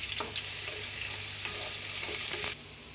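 Boiled onions frying in a pan for mutton curry, a steady close sizzle with a few soft stirring scrapes, then an abrupt drop as the sizzle cuts off near the end.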